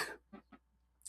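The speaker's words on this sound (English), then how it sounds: "When I laugh and talk, I'm just getting this dry throat cough." A few short, dry coughs from one person, quiet and close, spaced apart with brief silences between them.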